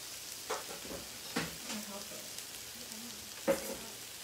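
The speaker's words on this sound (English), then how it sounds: "And we're going to give it a saute." Food for karahi paneer sautéing in a pan, a quiet continuous sizzle with a few clinks and stirring knocks from utensils, heard close up with no talking.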